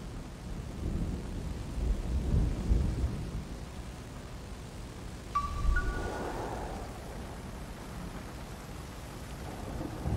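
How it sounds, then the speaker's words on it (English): Rain falls steadily in the video game Flower, heard as a soft, continuous wash with low rumbles of distant thunder and a brief chime-like tone midway through. "it's starting to rain harder and harder, as you can hear"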